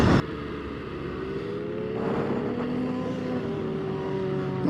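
An MV Agusta 800 Brutale motorcycle riding along, its engine note droning steadily and rising in pitch as it accelerates, loud and close throughout with no talk.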